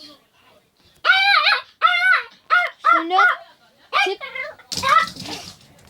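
A small guard dog barks and yips in a rapid series of sharp, close, high-pitched calls, with short gaps between bursts.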